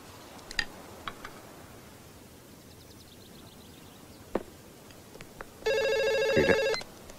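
A mobile phone ringtone beeps for about a second near the end of a quiet indoor scene, preceded by a few faint ticks and clicks, with no speech.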